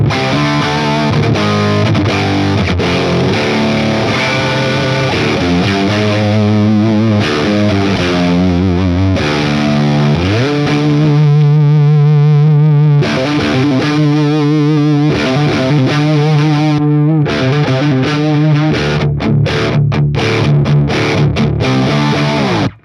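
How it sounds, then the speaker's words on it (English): An electric guitar played through a Beetronics Fatbee overdrive pedal rings out in thick, distorted chords and sustained notes, loud and continuous with brief pauses between phrases. "that's just a great overdrive sound"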